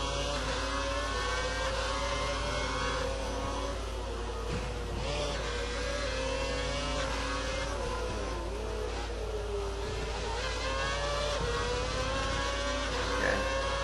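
A Formula 1 race car engine in the F1 2012 game whines loudly and continuously, its pitch rising and dipping through acceleration and cornering, with brief gear changes and no talking.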